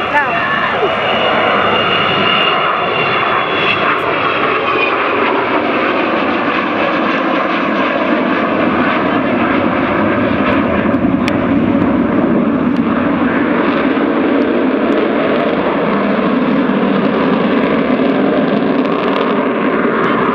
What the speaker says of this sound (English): That is the sound of 4 Rolls-Royce Bristol Olympus 202 engines